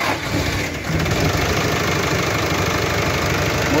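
A VW 9-150 truck engine running after starting, a loud steady mechanical clatter with knocking rhythm heard close up and continuous throughout, no talking.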